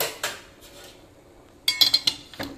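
Boiled bamboo shoots are drained for a pickle as metal pots and utensils knock together: an early clank, a quiet stretch, then a quick cluster of bright clattering hits and one last clink.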